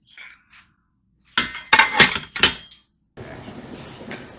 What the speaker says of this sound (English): And here is the cook and crisp basket.